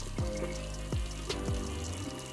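Water running from a campsite cabin sink tap, a continuous moderate flow with a few soft splashes and gurgles, heard close and alone without voices.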